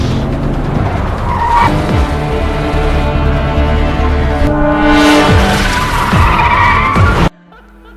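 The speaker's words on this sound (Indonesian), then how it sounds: "ia langsung menancap gas hingga terjadi kejar-kejaran" A car chase from the film The Cop, the Gangster; tires shriek in long skids as engines roar close and loud, with a sharp break near the end.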